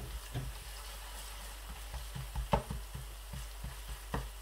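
Onion and garlic paste fries quietly in a pan with a low, steady sizzle, broken by irregular soft taps and scrapes as it is stirred, heard close with no speech.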